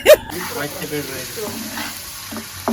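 Fish and spice paste sizzle and crackle steadily in a hot pan, with voices talking over it and a short sharp knock at the start.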